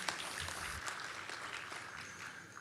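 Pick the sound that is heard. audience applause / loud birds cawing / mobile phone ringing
audience applause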